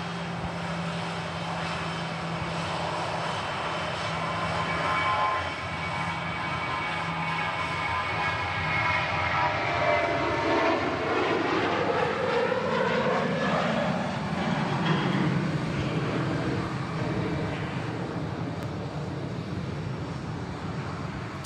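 A Ryanair airliner rolls down the runway for takeoff at Manchester Airport, a distant, broad engine roar that swells and shifts pitch over about twenty seconds, with no voices.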